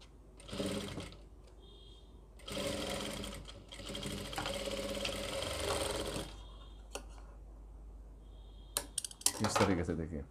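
A sewing machine stitches an Afghani salwar in several close, loud bursts of whirring needle action, broken by short pauses and light clinks of handling.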